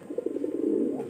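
A young pigeon coos softly during its first flight training, a short throaty burbling call lasting about a second, close and fairly quiet.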